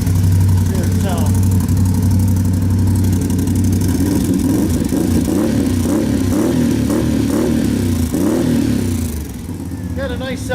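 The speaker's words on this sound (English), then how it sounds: "Got a nice little rumble, but it's not loud and obnoxious." A Can-Am 570 XMR ATV fitted with an HMF Titan QS exhaust idles close by. It gives a steady, deep, throbbing rumble that continues loud and unbroken throughout.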